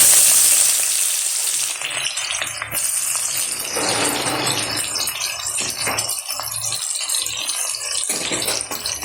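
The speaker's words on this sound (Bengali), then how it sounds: "পেঁয়াজটা একটু লাল লাল করে ভেজে নেব" Chopped onion hits hot oil with bay leaf and cumin in a kadai, a loud burst of sizzling that settles into steady frying with intermittent stirring scrapes and rattles.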